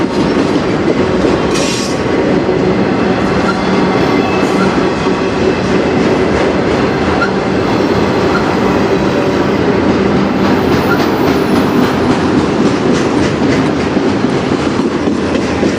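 A CN freight train rolls past on the tracks in Sarnia, Ontario: a loud, close, unbroken rumble with steady clickety-clack from the wheels and a faint high squeal, with no voices over it.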